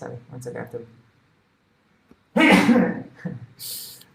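A single loud sneeze bursts out after a brief pause in someone's talking, followed by a short spoken reply.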